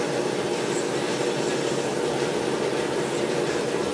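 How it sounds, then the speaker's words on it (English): An air compressor runs nearby as a loud, steady broadband drone with a low rumble, unbroken for the whole stretch and heard alone. "there goes the compressor"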